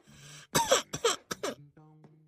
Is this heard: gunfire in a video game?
no